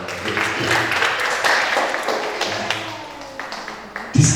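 Applause from a lecture audience at a karawitan talk, a scattered, uneven clatter of hands for about four seconds, moderately loud, ending with a louder thump.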